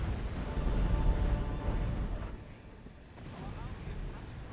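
Bombard cannon fire in the Medieval 2 Total War video game, a dense, rumbling barrage of deep booms rolling steadily, heaviest at the start and easing partway through before building again, with no talk over it.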